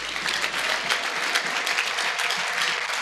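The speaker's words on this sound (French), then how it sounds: "Est-ce qu'on peut acclamer la parole?" A church congregation applauding after a sermon reading, a steady, dense wash of clapping from many hands filling the space throughout.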